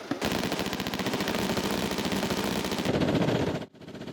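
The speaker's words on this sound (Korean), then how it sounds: "기관총 3정에서 동시에 불을 뿜으며 날아간 총탄이 1km 거리의 피탄지를 사정없이 때리며 흙먼지를 일으킵니다" Three machine guns fire at once on a Hwacheon, Gangwon Province training range, crewed by tank battalion soldiers: a loud, close, unbroken stream of rapid shots that cuts off abruptly near the end.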